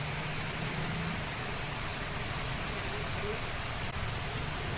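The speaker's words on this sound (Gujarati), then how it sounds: "અમદાવાદમાં વરસાદ શરૂ થયો છે" Steady heavy rain falls across Ahmedabad during the monsoon, a continuous dense hiss with no break, with a faint hint of passing traffic underneath.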